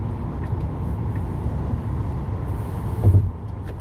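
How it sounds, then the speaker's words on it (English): Steady low road roar inside a car cruising on a highway, with noise coming through the panel gaps; the rumble stays even throughout, swelling briefly near the end. "all those little panel gaps add to the noise you hear on a highway"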